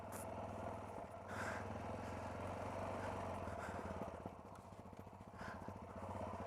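A Royal Enfield Himalayan motorcycle rides a rough trail in Corsica, its single engine giving a faint, steady drone that rises and dips slightly with the throttle.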